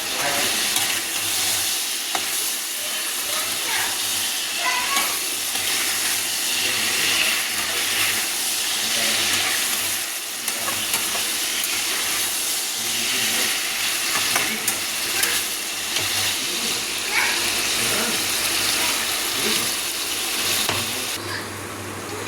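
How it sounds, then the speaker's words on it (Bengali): Chicken fries in a pan with a continuous, fairly loud sizzle that carries on without a break. Scattered stirring clinks and scrapes sit on top, and no voices are heard. "আর এদিকে কিন্তু চিকেনটা ভাজা হচ্ছে।"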